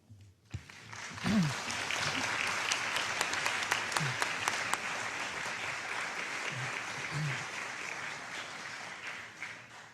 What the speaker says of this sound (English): Very well deserved applause.